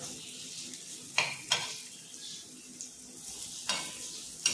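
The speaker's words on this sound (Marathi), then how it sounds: "हे बघा, आता आपण जरासं परतून टाकूया." Masoor dal masala being sautéed in a pan over low heat, with soft sizzling and several sharp scrapes and clinks of a spoon stirring against the pan, heard close and alone.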